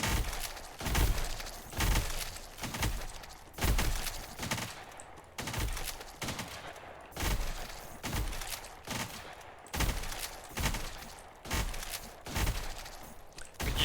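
Repeated shotgun blasts in the survival roguelite When The Light Dies, a steady rhythm of about a dozen loud, close booms spaced roughly a second apart, with no talking.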